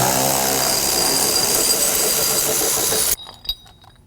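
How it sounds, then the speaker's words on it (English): Loud, steady power-tool whir, likely an impact driver, loosening bolts and nuts from the studs holding a new Lion lathe to its shipping pallet; it runs continuously for about three seconds, then stops abruptly, leaving a short metallic clink. "So we need to come around and just remove all these nuts and take the studs out"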